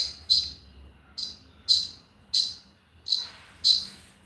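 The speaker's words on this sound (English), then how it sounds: "Philip, your background chirping is annoying. Sorry, it's the hangar door coming up" A hangar door rising gives off a series of six sharp, high chirps at a regular rhythm, each about half a second apart, over a faint low rumble.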